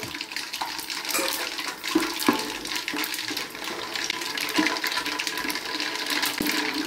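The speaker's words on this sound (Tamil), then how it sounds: "இப்போ பார்த்தீங்கன்னா கடுகு போட்டாங்க" Mustard seeds sizzling and crackling in hot oil in a home kitchen while tomato pickle is made, a steady loud hiss with scattered pops up close, no talk.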